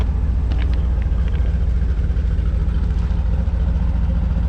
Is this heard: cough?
no